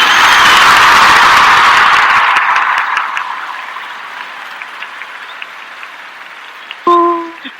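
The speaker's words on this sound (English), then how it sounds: "thank you for the applause" Applause from an audience at a spiritual chakra cleansing gathering swells loud and dense at the start, then gradually thins and fades to scattered claps before a brief tonal sound cuts in near the end.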